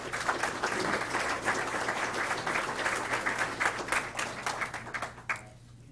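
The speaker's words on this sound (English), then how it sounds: "let's please give these gentlemen a round of applause" Warm applause from an audience at a student signing day at a technical college, steady dense clapping throughout that cuts off near the end, leaving a quiet room.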